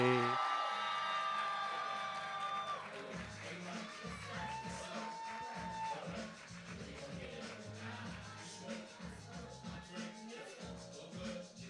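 Audience at a Philadelphia spoken-word night cheering and applauding for featured performer Kira J, loud whoops and claps at first that thin out as music and talk take over.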